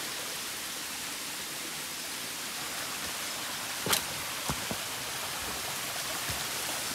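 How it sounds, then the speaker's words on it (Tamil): Water pours over rocks in a cardamom estate after rain, a steady broadband rush that holds evenly throughout, broken by a few faint knocks or drips near the middle. "மழை பெய்ய ஆரம்பிச்சதுனால மேலும் தண்ணி விழுக ஆரம்பிச்சிச்சு."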